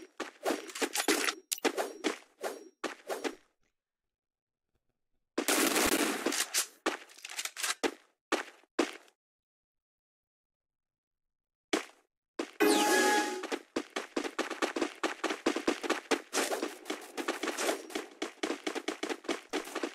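Rapid automatic gunfire from a main weapon in the battle game Free Fire, with dense bursts of sharp cracks, loud and close, broken by long silent gaps between volleys.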